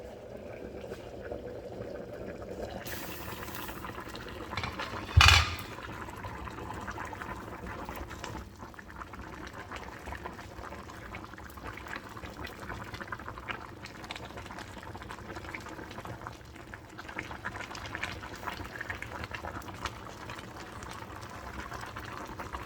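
A covered pot of beef meat pie filling simmers on a cooker, a faint steady bubbling hiss broken by a short sharp clank of the lid, with low background noise throughout.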